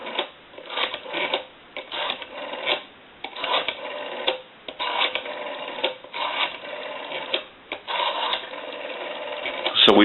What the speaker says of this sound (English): We'll give you some dial tone. And now we want to dial our numbers out.